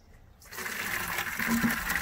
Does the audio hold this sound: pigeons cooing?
no